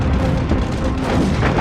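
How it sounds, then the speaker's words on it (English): Anti-aircraft guns aboard the carrier Enterprise fire at attacking Japanese Mitsubishi G4M Betty bombers, a dense, loud rumble of overlapping booms and blasts that fills the whole moment. "Enterprise's anti-aircraft guns greet the invaders with a cloud of lead."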